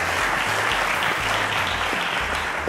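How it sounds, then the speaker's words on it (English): A studio audience claps loudly and continuously for a contestant on the Cowbellpedia quiz show, with a pulsing low music bed running beneath the steady wash of applause. "Round of applause to Godswill, guys."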